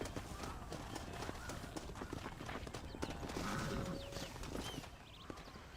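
A horse's hooves clip-clop in the Red Dead Redemption game, a quiet, irregular run of hoofbeats with faint mechanical rattles, heard at a distance.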